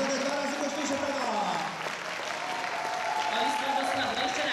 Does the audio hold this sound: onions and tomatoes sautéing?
no